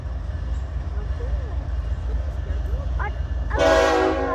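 A train passes a crossing on a pedestrian path in a metropark, with a low steady rumble and a loud horn blast near the end, while people talk and a dog is addressed over the noise.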